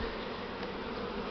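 A large swarm of Buckfast honeybees being settled into a hive, giving a dense, steady, close buzzing hum throughout with no voices.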